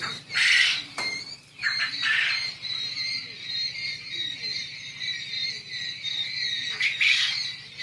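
Caged quail birds, kept at every age from chicks to laying hens, call in a continuous chorus of harsh squawks and high chirps, close and loud throughout, with soft insect-like buzzing underneath.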